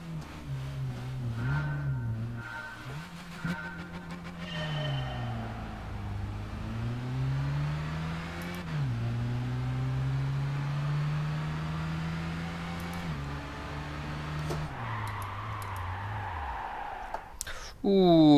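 A car engine in the Gran Turismo 5 video game revving up steadily, with pitch drops at each gear change and a sustained drone throughout, loud and continuous.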